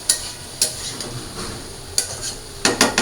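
A spoon stirs spiced vegetables as they fry in a pan for a stinging catfish curry, giving sharp metallic scrapes and clinks against a soft background sizzle.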